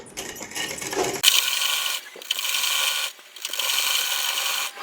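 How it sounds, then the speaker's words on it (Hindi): A sewing machine stitches salwar fabric in loud whirring bursts, three runs of stitching separated by short pauses, close up. "इस तरह से पूरा सेट करते हुए कपड़े को पूरे में सिलाई लगा लें।"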